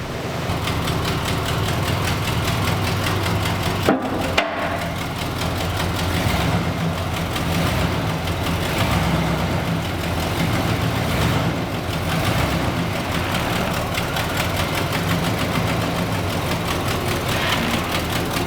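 A Buick Wildcat engine, fitted with a new ignition switch after sitting 21 years, idles steadily and loudly with a deep low rumble, preceded by a brief sharp click or clunk near the start as it catches.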